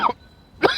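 Two short, sharp coughs from one person, about half a second apart, close and fairly loud with a quiet pause between them.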